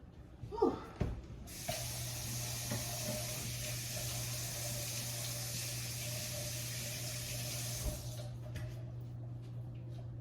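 Kitchen tap running steadily as hands are washed under it, a continuous close hiss of water lasting several seconds after a brief rustle, then shutting off, with no talking.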